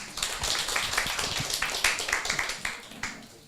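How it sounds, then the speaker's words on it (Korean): A church congregation at a Ten Commandments quiz claps for a correct answer, a light, rhythmic patter of hands at moderate distance, rising and falling in quick pulses. "박수 주세요."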